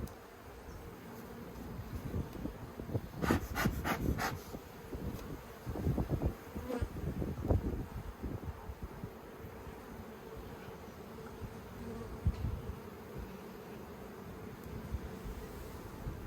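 Honeybees buzzing around an open top bar hive nucleus, a steady low hum with individual bees zipping close past now and then, fairly quiet and alone without any voices.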